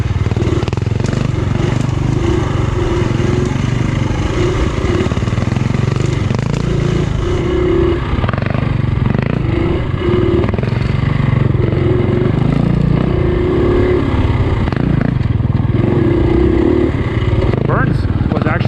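A 2018 KTM 350 dirt bike rides through Ohio woodland trails, its engine droning loudly and steadily throughout with continuous throttle changes and close, rough mechanical buzz.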